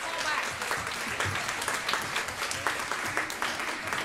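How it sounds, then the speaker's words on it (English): Audience applause for a soloist at a middle school band concert, a dense, steady wash of many hands clapping throughout, moderately loud and close, with no voices over it. "I did not include her name in the program, but applaud her"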